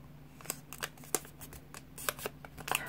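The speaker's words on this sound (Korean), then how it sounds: "뒤로 반을 접죠." Colored origami paper is folded by hand while making a cherry-blossom flower. The paper gives crisp, scattered crinkles, rustles and soft creasing snaps, quiet and close, with no talk over them.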